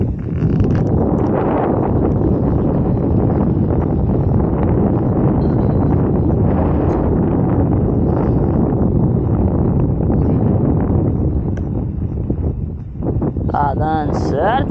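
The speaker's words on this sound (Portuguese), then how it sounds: "o vento de chuva" Wind ahead of rain blows across a rural farm in Potiretama, Ceará, a loud continuous rushing roar buffeting the microphone for the whole stretch, with a faint voice near the end.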